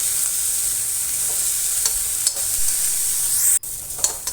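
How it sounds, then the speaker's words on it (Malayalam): Bitter gourd sautéed in a pan with onion, a constant close hiss of frying oil with a few light stirring knocks and one abrupt break near the end. "കയ്പ്പയ്ക്കയും ഒന്ന് നന്നായിട്ട് വഴറ്റിയെടുക്കണം"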